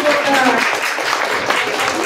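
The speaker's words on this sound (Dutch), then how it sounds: "Om jou als een applaus en nogmaals een applaus" Audience applause at a Pink October event, a dense wash of clapping across the whole stretch, steady and fairly loud with a voice briefly audible at the start.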